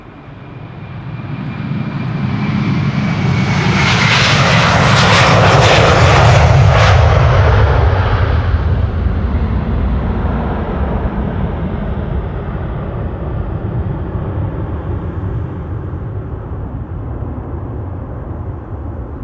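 A 19-year-old KLM jet, registration PH-AOF, departs Amsterdam Schiphol on flight 675 to Edmonton. Its engine roar swells over several seconds to a loud peak, then fades in a long, rumbling tail.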